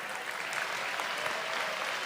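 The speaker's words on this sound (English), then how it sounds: "I think we should give them a round of applause as we welcome the top contestants" An audience at a state FFA convention session applauds contestants with a steady, dense wash of clapping throughout, moderately loud and evenly sustained.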